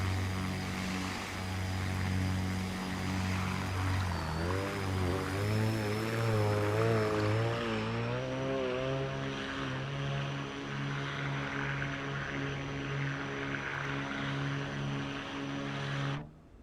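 The turbocharged engine of a Baron 58 twin-engine aircraft in a video game spools up with a loud, steady propeller drone whose pitch dips and then climbs and holds as the engines rise in power, before cutting off at the end.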